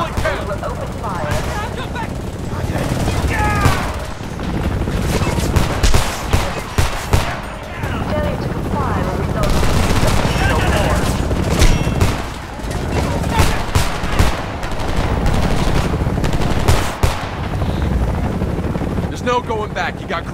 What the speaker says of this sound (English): Make every bullet count! Open fire!